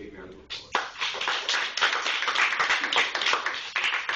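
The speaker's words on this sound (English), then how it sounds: "Give him a big round of applause." Audience applause at a library performance of Pinocchio, a dense wash of many hands clapping that starts abruptly after a brief pause and stays steady and fairly loud to the end.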